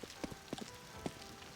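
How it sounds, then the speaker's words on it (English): Rain ambience on a CS:GO map in a video game, a faint wash of falling rain with scattered soft droplet taps and patters at irregular intervals. "Is it raining?"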